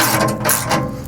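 A crescent wrench tightens a bolt on a loader bucket's tooth bar, a close, loud, continuous metallic grinding and ratcheting rasp lasting about a second.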